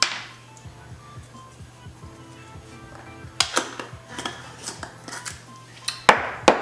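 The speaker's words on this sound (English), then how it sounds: "So I've tossed these around a little bit just to make sure that they're all evenly coated." Roasted squash and zucchini being tossed with cumin, garlic salt and dried Italian herbs in a bowl, soft shuffling followed by sharper clinks and scrapes of utensils against the bowl, close and clear.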